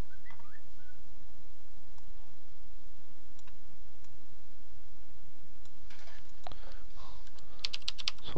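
Someone types a Korean tax-law search into Naver on a computer keyboard: a quiet stretch, then quick bursts of close, crisp key clicks that cluster in the last few seconds, with no talking.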